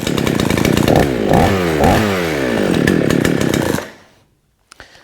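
A Baumr-Ag GCS6200 chainsaw engine runs loud and close, revving up and down in several surges before cutting out, followed by near silence and a couple of small clicks.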